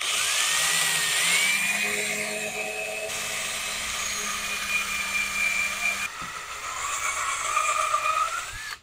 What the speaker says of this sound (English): Now, I'm going to drill a hole right here for the harness to come through.